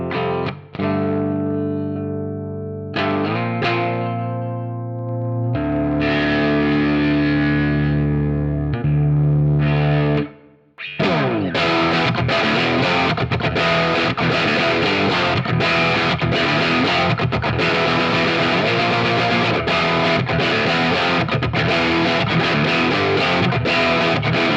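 An electric guitar runs through a Fractal FM3 high watt amp model with a transparent clean boost, starting with ringing sustained chords, then a short break, then dense, driven strumming and riffing, loud and continuous.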